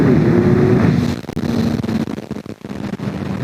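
A Kawasaki Ninja 1000 sports bike on a speed run, its engine roaring loud and steady up close before the note drops and wavers with wind buffeting the rider's helmet.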